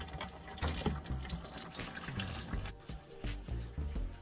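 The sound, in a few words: fluid draining from an engine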